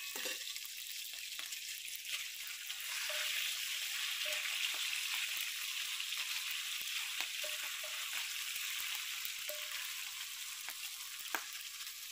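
Food frying in a pan gives off a steady broadband sizzle that runs the whole time, with occasional soft clicks of stirring and no talking.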